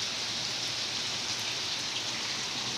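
Heavy rain pours down steadily during flooding, a dense, even hiss of drops that holds at a constant level throughout, with no voices.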